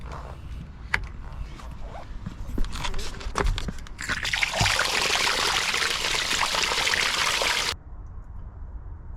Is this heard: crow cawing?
no